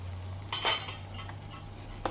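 A spoon clinks and scrapes in a pan as thick curd is stirred into drumstick masala curry. There are a few brief metallic strokes over a steady low hum.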